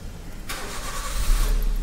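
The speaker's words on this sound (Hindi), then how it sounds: "अब हम गाड़ी स्टार्ट करते हैं" A Maruti Suzuki Ritz car with a fault that makes the speedometer, display and lights blink: a starter cranks briefly, then the engine catches and settles into a loud, steady idle, close by with no talk.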